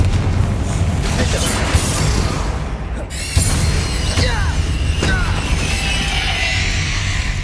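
The Confringo explosive spell blasts in Hogwarts Legacy, a loud booming burst with crashing, crackling debris and mechanical rumble that carries on under continuing game sounds.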